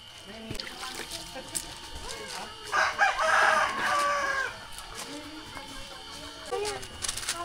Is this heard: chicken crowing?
yes